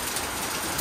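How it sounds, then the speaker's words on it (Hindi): Heavy rain pouring steadily around a bungalow during a downpour, a dense continuous hiss that stays close and fairly loud throughout with no breaks. "यहाँ पर आ रही है बारिश"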